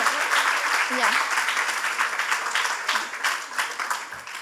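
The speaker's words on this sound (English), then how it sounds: "Can we give a round of applause?" Steady applause from a crowd, a dense wash of many hands clapping that holds for several seconds without any clear break.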